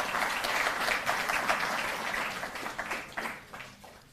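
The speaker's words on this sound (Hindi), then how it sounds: "जोरदार तालियों से आप स्वागत करें" A large crowd gives loud, dense applause to welcome a speaker at a ceremony honouring national athletes, a continuous roar of clapping that swells early and gradually tapers off.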